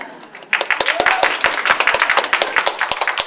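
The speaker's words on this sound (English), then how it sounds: "Yes, applaud." Audience applause at a visiting artist's university talk starts abruptly and continues as close, crisp individual claps from a modest crowd, with some voices mixed in.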